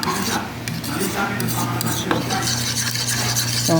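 A spoon stirs a green-coloured sapin-sapin rice-cake mixture, making steady scraping and clinking with a continuous wet swish and no pauses.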